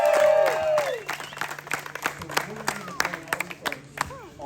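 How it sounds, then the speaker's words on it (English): Audience applause at a charity event, a steady clapping crowd heard beneath a voice that carries through the whole stretch. "Give yourselves a round of applause."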